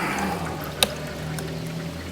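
Coolant draining from a Harley-Davidson motorcycle during a water pump replacement, a steady close trickle of liquid with one sharp metallic tick partway through.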